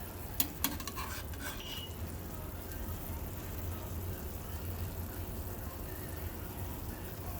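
Ground hamburger meat browns in a pan with a low, steady sizzle, opened by a few quick clinks of a utensil against the pan.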